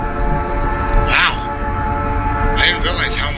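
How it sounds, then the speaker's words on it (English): Train in the video game Night In The Woods rolling past with a steady rumble, its horn sounding in two blasts, one early and a longer one near the end, with no talk. "I didn't realize how much I missed the sound of the train."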